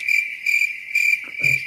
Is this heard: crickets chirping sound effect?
yes